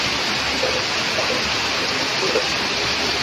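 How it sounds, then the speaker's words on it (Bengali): Heavy rain that has suddenly begun on an evening pours down in a steady, loud, dense roar, with faint voices murmuring under the downpour. "হঠাৎ করে কি জোরে বৃষ্টি চলে এসছে দেখো"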